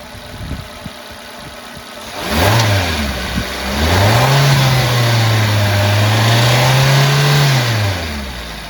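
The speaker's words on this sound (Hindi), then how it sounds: "रेस देंगे गाड़ी को रेस देंगे" A car engine starts near and quiet, then is revved twice, climbing into a sustained high-rev drone before settling back down, during a mass air flow sensor voltage test with a multimeter.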